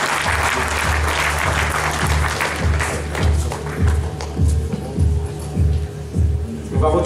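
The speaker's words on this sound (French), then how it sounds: "les applaudit très très très fort" Audience applause at a martial arts gala, steady clapping throughout with a few thumping low taps standing out as the claps continue at moderate loudness.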